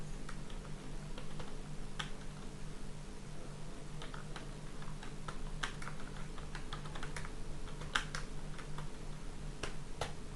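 Someone types PHP code on a computer keyboard, the keys clicking in quick irregular runs with occasional sharper taps, close and fairly quiet over a steady low hum.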